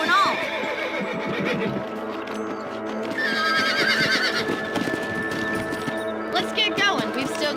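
Horses in the Red Dead Redemption video game whinny repeatedly while hooves clip-clop steadily, close and loud, mixed with game sounds and voices.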